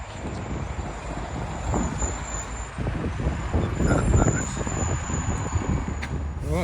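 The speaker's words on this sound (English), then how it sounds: "the truck should be pulling in" A truck pulling in, with a steady engine rumble and a faint high hiss, as people talk over it throughout.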